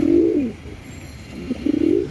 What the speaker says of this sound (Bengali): গোল্ডেন আইজের পায়রা যেটা উনি বললেন।